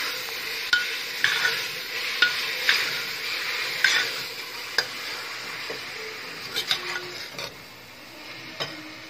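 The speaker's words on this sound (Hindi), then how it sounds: "पालक डाल के गैस को तेज कर देंगे और भूनेंगे उसको।" Spinach sautés on a high gas flame for chana dal palak, a steady sizzle in the pan broken by scraping stirs of a spoon at an irregular, unhurried pace, close up and without talk.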